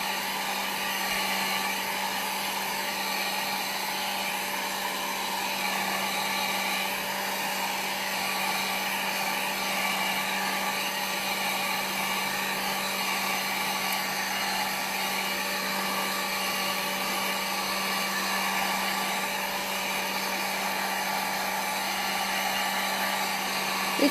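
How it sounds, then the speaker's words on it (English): A hair dryer blows steadily for the whole stretch while ink swatches are dried, a loud, constant whooshing roar with a fixed motor hum and no pauses. "the dryer is on. I don't know if you guys can hear me clearly with the dryer on."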